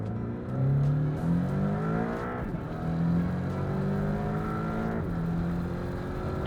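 A Porsche 718 Boxster accelerating hard up to highway speed, the engine rising through rapid gear changes with repeated climbing pitch sweeps, loud and steady from inside the car.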